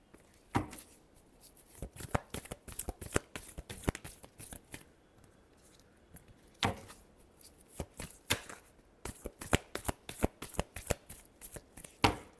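Close, quiet riffling of a tarot deck being shuffled, with quick bursts of card slaps in irregular runs and short pauses between them.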